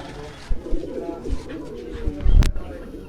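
Pigeons in a fancier's loft in Quetta coo in low, soft murmurs, with a few sharp clattering knocks and one brief loud crack near the end.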